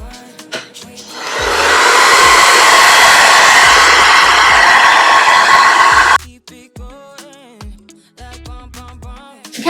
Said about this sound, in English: So I'm gonna do a couple of sprays.